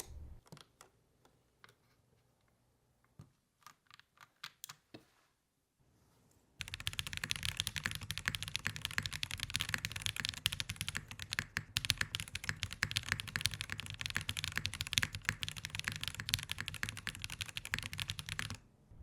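Typing on a QK60 keyboard with a POM plate and Tofu switches: slow individual key presses at first, then a long stretch of fast continuous clacking, close and crisp with no talking.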